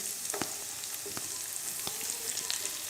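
Chopped onions shallow frying with garlic in a pan give a soft continuous sizzle, with a few brief stirring scrapes and clicks heard close up and quiet, with no talking.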